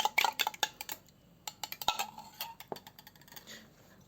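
Two eggs are beaten in a bowl, giving quick irregular clinks and taps of a utensil against the dish with short pauses, close and fairly quiet, with no talking.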